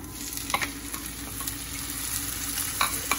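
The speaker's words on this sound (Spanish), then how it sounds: "Voy a esperar aquí un minutito a que se fríe bien el ajo" Garlic frying in oil in a pan, a steady close sizzle with a few light stirring clicks and scrapes over about three seconds.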